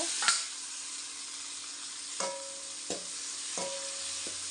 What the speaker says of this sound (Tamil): இதாங்க தக்காளி 3 தக்காளி எடுத்து கட் பண்ணி வச்சுருக்காங்க, போட்டுக்கலாங்க.